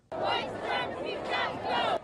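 A large crowd of protesters marching against hate and racism in Boston shouts together in rising, rhythmic chanting waves, loud and close, filling the whole moment.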